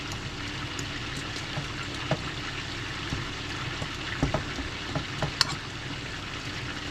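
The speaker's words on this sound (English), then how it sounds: "like steak's cooking over here" A steak frying in a pan gives a soft, continuous sizzle with scattered pops and light clinks, moderately quiet and with no talk over it.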